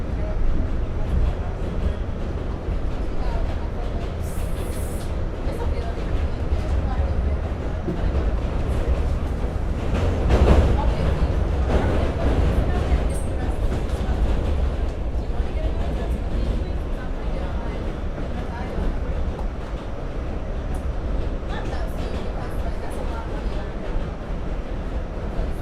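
A New York City subway train rumbles steadily and loudly throughout, with continuous wheel roar, rattling and a swell of noise midway, recorded from on board, with faint talk barely present under the din.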